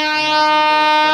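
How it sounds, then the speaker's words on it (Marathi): Train arriving at a station, a loud sustained horn blast with a steady multi-tone blare, close and alone without voices. "तर मित्रांनो पाहू शकता आपली ट्रेन आलेली आहे."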